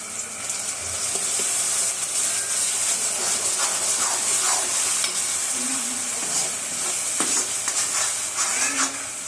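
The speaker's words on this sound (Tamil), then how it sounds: "சேர்த்து நல்லா கிளறி விட்டுக்கலாம்." Sautéed onions and ground tomato are stirred in a pan for a prawn gravy, giving a steady loud sizzle and hiss with occasional soft scrapes and clinks of the spoon.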